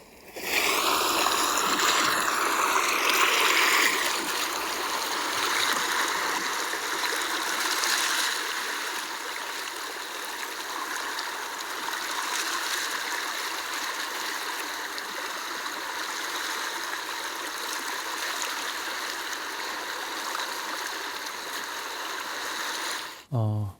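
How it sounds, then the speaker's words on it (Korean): Waves washing along a Jeju Island seashore, a steady broad hiss of water that swells early on and then holds even and moderately faint for over twenty seconds, with no voices. "방금 전 제주도 바닷가 소리입니다"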